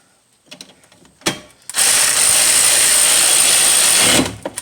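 A ratchet with a 13mm socket tightens a brake bracket bolt on a 2004 Chevy Impala during a rear brake job: a few short clicks, then a loud, steady buzzing whir for about two and a half seconds, close up.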